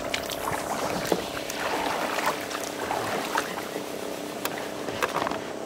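Paddles splash and dip as a homemade concrete-tub boat is rowed across a reservoir, with gentle water lapping and scattered knocks, a quiet voice speaking now and then.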